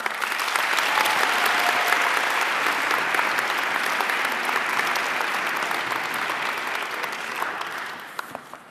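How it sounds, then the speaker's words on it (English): An audience in a school event hall applauds a student speaker at a freshman academy kickoff, dense sustained clapping filling the room for nearly nine seconds, tapering slightly toward the end, with a few whistles mixed in. "Let's give Savannah another round of applause."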